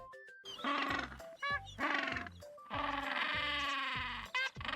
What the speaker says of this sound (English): Yeah, that's just a donkey sound.